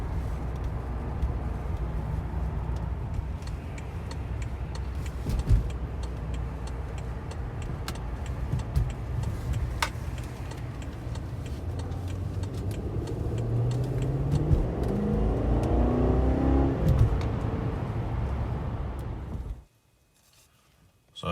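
A BMW 550i in -20F cold idles steadily, then its engine revs up in rising harmonic sweeps around the middle before cutting off abruptly near the end, with faint ticking over the low rumble.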